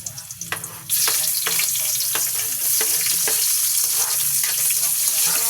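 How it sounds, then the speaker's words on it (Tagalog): Garlic, onion, chili and shrimp paste (alamang) sizzle steadily in a hot pan, with scrapes and taps of stirring throughout; the frying grows louder after the first second, and nobody speaks. "Ginisa ko muna siya."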